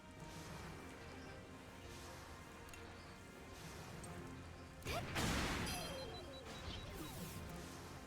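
A grenade launcher fires in the game Fuga: Melodies of Steel, with a mechanical clatter under game music followed by a sharp crash and burst of explosive noise midway, then fading rumble and smaller impacts.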